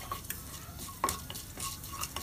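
Urad dal, mustard seeds and cumin frying in hot oil for a tempering, a soft steady sizzle with a few sharp pops and light stirring clinks of a spoon against the pan.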